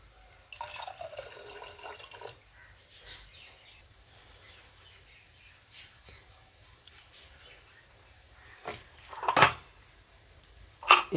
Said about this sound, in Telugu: 2 గ్లాస్ వాటర్ తీసుకుంటున్నాను.